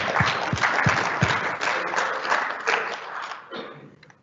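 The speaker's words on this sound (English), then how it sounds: "A round of applause for a prize for this man." Audience applause at an IADC chapter meeting, a dense burst of clapping with a few sharp, distinct claps early on, then thinning and fading toward the end.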